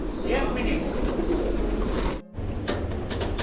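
Pigeons coo at a shelter that cares for injured and sick pigeons. The cooing is steady and close, with people talking over it and a brief dropout partway through.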